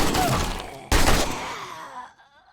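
Zombies in the video game 7 Days to Die, a loud rough burst of noise with a sharp thudding hit midway, then guttural groaning trailing off into quiet, close by with no talk.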